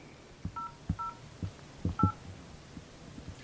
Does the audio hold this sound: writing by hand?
no